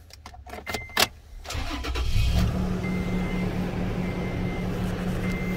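A 2013 Toyota Tacoma SR5 Pre Runner engine cranks with a few sharp starter clicks and whirs, then catches and settles into a steady, moderately loud idle, heard close up with no talking.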